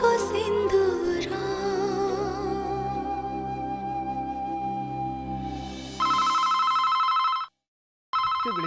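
A telephone rings with a repeated electronic trill, loud and close, over a background music bed, then cuts out briefly and resumes.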